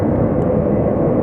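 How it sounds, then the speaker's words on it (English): A Cessna 208 FedEx feeder plane coming in at Sky Harbor Airport gives a steady, broad engine roar, constant in loudness throughout with no voices. "Looks like a FedEx feeder. It's a 208 Cessna."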